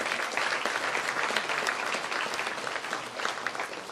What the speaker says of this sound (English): give Paul a round of applause